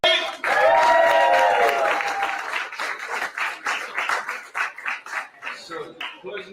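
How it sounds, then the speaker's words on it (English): A big round of applause and cheering from the audience for a competitor named Stephen at a Stir It Up wildcard event, starting loud and full then thinning into scattered clapping bursts. "It's a big round of applause for Stephen."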